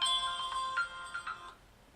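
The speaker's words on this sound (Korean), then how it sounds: "전화가 왔네요." A phone rings during a lecture, a short run of bright electronic ringtone tones that repeat and then stop after about a second and a half, moderately loud with no talk over it.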